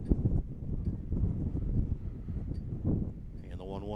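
A wind gust sweeps across a high school baseball field during a game, heard as a low, steady, buffeting rumble on the microphone.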